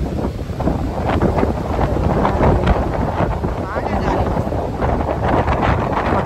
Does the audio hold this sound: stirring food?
no